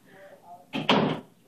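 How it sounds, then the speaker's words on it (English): A door shuts with a short, fairly loud thud in a home on Christmas morning, coming right after some quiet voice-like sounds. "Close the door behind you."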